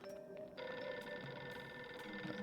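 Telephone ringing in No One Lives Forever, a spy shooter game: a warbling electronic ring that swells and holds steadily over a low game background hum, with no one talking.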